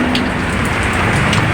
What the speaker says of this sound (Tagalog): Umuulan sa labas.